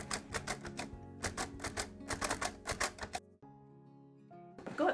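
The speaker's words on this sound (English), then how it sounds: "roll the paper in and braille the pupil's name" A Perkins brailler embossing braille onto sticky back plastic: bursts of sharp, rapid mechanical key strikes in quick clusters, then a pause with a faint hum, ending with a short rustle or clunk as the carriage moves.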